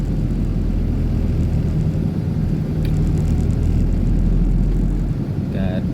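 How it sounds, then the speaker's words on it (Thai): A car's air conditioner fan blows steadily inside the cabin while the AC struggles to cool, making a constant broad whooshing rush that runs unbroken and fairly loud from start to finish. "ท่านเดี๋ยวทายในรถกะอาจจะมีเสียงครับ เสียงล่มครับล่มแอร์ครับ"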